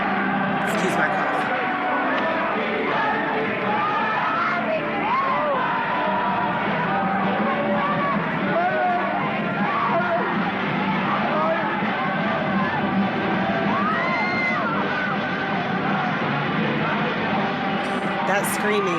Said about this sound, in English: That screaming is the appearance of Jim Jones at the podium.